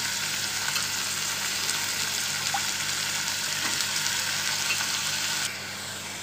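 Potatoes for a simple aloo fry crackle in a pan with a dense, even sizzle that holds steady for several seconds before dropping slightly quieter near the end.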